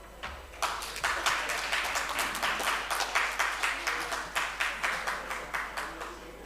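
A literature festival audience in New Delhi applauds in a modest room, separate hand claps that become steadier and more rhythmic, then thin out toward the end, fairly quiet with no speech.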